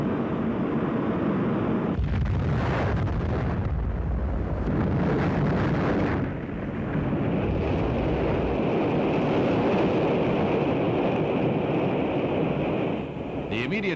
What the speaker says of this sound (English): The immediate cause of the explosion is not known